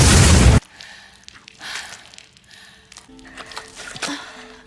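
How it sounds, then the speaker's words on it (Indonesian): A body bursting apart in a horror film after a stake is driven through its heart, heard as a loud broadband blast at the very start that cuts off abruptly, followed by quieter scattered film sounds and faint tones. "Mereka kemudian menusukkan pasak ke jantung Frank sampai seluruh tubuhnya meledak."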